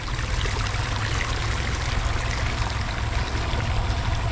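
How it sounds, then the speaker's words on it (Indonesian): Water flows steadily in the Citanduy River below a bridge near the Leuwikeris dam, a loud continuous rushing wash filling the scene close by, with no voices heard. "Suasana di Sungai Citanduy teman-teman."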